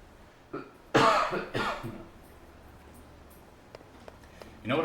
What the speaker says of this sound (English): I hate taking cough medicine and yet still coughing.